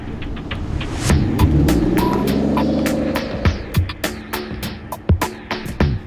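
An Aston Martin DBS Volante on a skid pan: the engine hums and throbs, rising in pitch as it accelerates, then settles while sharp clicks and knocks punctuate the drive.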